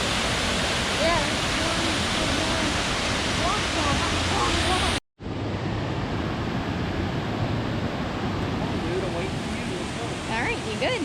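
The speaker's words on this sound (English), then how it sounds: "Soco Falls. There's a lot of water." Soco Falls, a waterfall near Bryson City, North Carolina, roars with a heavy, constant rush of water close by, broken by a brief cut partway through, with faint voices barely audible beneath the torrent.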